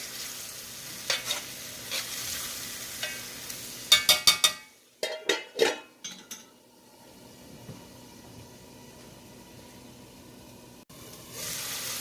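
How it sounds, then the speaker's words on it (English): Chili being stirred in a pan over medium-high heat: a low frying sizzle runs throughout, broken by a burst of sharp metallic scraping clatters near the middle, then a quieter simmering sizzle alone. "I'm going to give it a stir. This is on medium-high heat."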